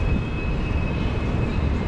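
MRT train at MacPherson station in Singapore, a steady broad rumble with a thin high whine running through it, loud and continuous with no speech.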